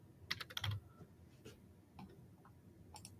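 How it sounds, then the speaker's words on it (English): Quiet keystrokes tap on a computer keyboard in a small room, a few quick clustered clicks early and then sparse, scattered presses, faint and with no talk. "typing."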